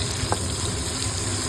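Chopped tomatoes with salt fry in a pan, giving a steady, close hiss of sizzling with a faint low rumble underneath and one small tick near the start.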